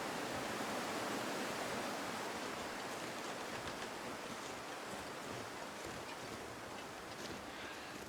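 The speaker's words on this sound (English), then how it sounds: "it looks like it just shifted, actually, the wind direction" Wind blowing in the survival video game The Long Dark, a steady, loud, broadband rushing roar that holds nearly constant for the whole stretch, with no voices.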